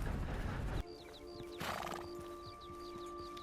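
Horse hooves clip-clop in a steady rhythm alongside a clear whinny in Red Dead Redemption 2, with the neigh standing out briefly over the close, repeated hoof steps and no talk.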